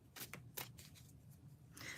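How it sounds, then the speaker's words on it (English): Oracle cards shuffled by hand, giving several quick riffling, papery bursts spread across two seconds against a low background hum. "I just shuffle."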